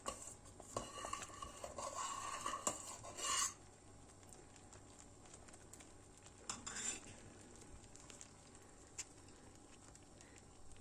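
A spoon scrapes and clinks against a pot and bowls while sütlaç rice pudding is served, with busy metallic stirring and scooping for the first few seconds, then sparse softer clatter.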